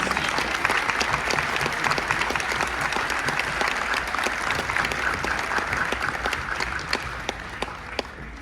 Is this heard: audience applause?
yes